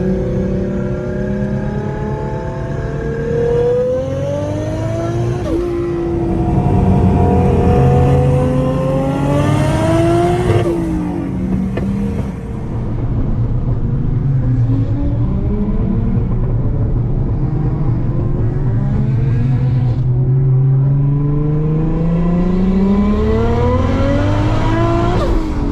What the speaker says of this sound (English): The cars are warming up.